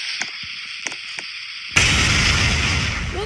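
A giant TNT block explodes in a Roblox office-building demolition game, a sudden loud boom that follows a few light clicks and then sustains a broad roaring rumble.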